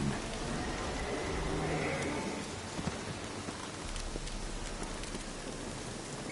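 Steady rain in the video game The Witcher 3 hisses with scattered drips and patters, fairly soft and continuous, with no voices.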